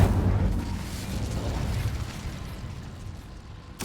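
Incendio fire spell cast in the Hogwarts Legacy video game: a loud, rumbling fiery burst that fades over a few seconds, with a sharp crackle at the very end.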